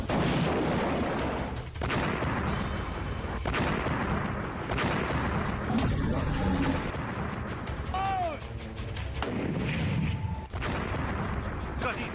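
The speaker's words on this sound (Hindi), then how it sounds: "कहीं तोप के गोलों की आवाज है, कहीं मिसाइलों के ताबड़तोड़ हमले हैं" Heavy booming artillery blasts and crashes roll on continuously, dense and loud, with a whistling sweep partway through and a voice faintly underneath, from the Russia–Ukraine war.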